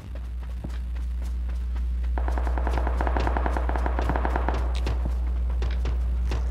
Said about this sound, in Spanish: Escucho el disparo